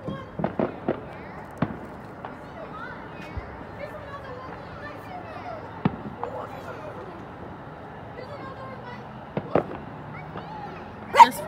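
Fourth of July fireworks pop and crack in sharp bursts, some close and some distant, while a crowd murmurs and talks throughout.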